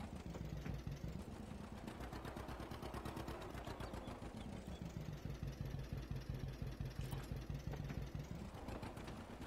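John Deere tractor in Farming Simulator 22, its engine chugging in a fast steady pulse while towing, pitch rising and dipping under load, close and continuous with no speech.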